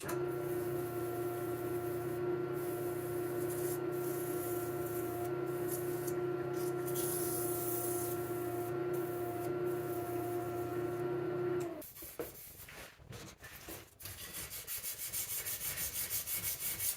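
Steady abrasive sanding against a wooden platter with a constant machine hum, then rougher, irregular scraping strokes toward the end.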